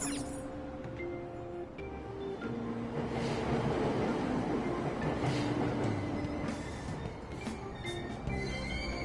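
Subway train in the video game Persona 5 Royal pulling out of a station, a loud sustained rumble of wheels on rails with squealing tones and clatter building through the middle, heard on its own.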